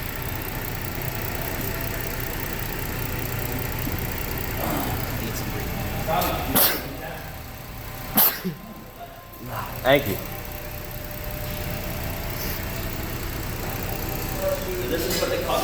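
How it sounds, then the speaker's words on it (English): A car engine idles with an idle surge, a low steady rumble with periodic swells and dips in pitch, heard near and under speech. "So I got idle surge, and I didn't even get into it yet."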